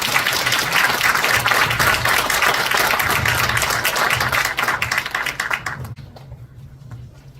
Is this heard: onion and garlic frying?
no